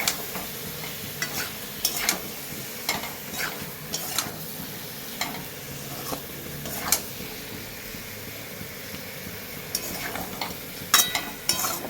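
Masala with ground coriander, cumin and turmeric being sautéed for a prawn curry, a low continuous sizzle punctuated by frequent rhythmic spatula scrapes against the pan, close up with no one talking.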